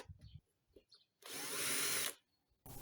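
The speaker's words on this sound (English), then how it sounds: "I'm also going to put some screws in. Extra security." A power drill drives a screw into construction timber on a bird table, a steady whirring burst of about a second between quieter handling knocks, close by.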